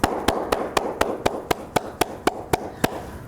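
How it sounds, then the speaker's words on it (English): A lone pair of hands claps at a slow, even pace at a forum of pastoralists and graziers, about a dozen crisp, evenly spaced claps sounding close and alone. "Please join me in applause."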